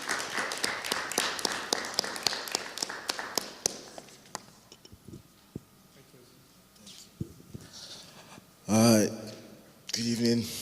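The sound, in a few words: audience applause for the speaker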